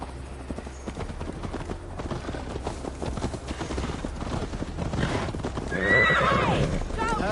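A horse is ridden in Assassin's Creed Valhalla, with steady clip-clopping hooves close by and a loud whinny near the end, under ongoing talk.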